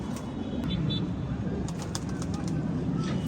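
Pigeons coo softly in a room during vaccination, with faint calls and brief chirps over a low murmur of background noise.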